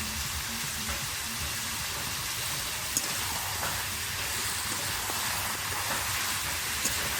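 Chicken pieces frying in a pan, a steady dense hiss and sizzle running unbroken throughout, close and even, with no voices.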